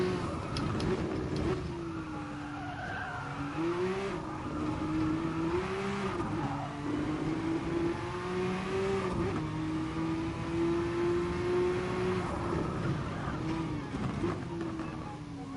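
A Group 1 race car in Gran Turismo Sport drones continuously at close range, its engine pitch rising and falling through gear changes and corners over a full stretch of track.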